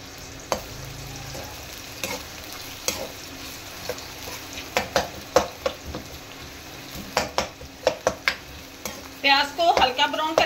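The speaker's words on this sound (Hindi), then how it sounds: "प्याज को हल्का ब्राउन करेंगे" Chopped onions frying in oil in a pan on a home stove, a steady sizzle broken by repeated clacks and scrapes of a spoon stirring against the pan, close and busy, with a brief burst of louder crackling at the end.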